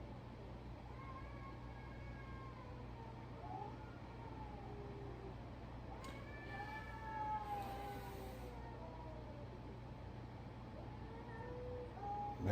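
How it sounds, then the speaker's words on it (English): Cats outside yowl and wail in long, rising and falling cries, faint and distant over a steady low hum, building in intensity as a fight brews. "you listen to the cats out there, they're going to break into full-on fight in a minute"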